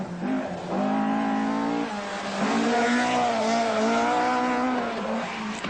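1980 rally cars racing over the tarmac roads of Epiant, engines revving hard through gear changes, passing close and loud with strained high-pitched engine notes.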